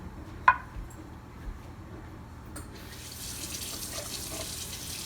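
Water goes into a pan of butter chicken paste and fried green chilies over low heat: a sharp clink first, then a faint rising hiss and pour after a few seconds.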